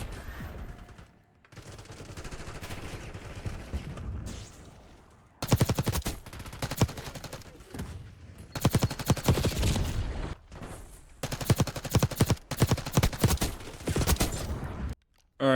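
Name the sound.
gunfire in a video game firing range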